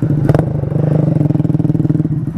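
Honda Grom motorcycle engine revving hard as the clutch snags, a loud close buzzing drone with a sharp clattering burst near the start and a pulsing steady rumble after.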